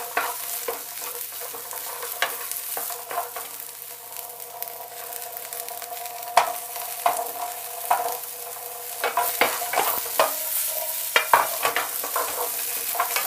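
Onions and carrots stir-fry in a pan, a steady sizzle broken by repeated scraping and clacking strokes of a utensil, close and fairly loud, with no voices.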